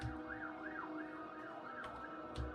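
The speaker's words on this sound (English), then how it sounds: "And now there's an ambulance outside" An ambulance siren wails outside as it drives past, its rising and falling tone sweeping steadily in cycles, muffled and moderately distant beneath a low room hum, with a couple of thumps near the end.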